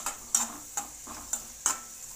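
Raisins fry in ghee for sweet pongal with a soft, thin sizzle, punctuated by five evenly spaced clinks of a metal spoon against the pan, fairly quiet and close.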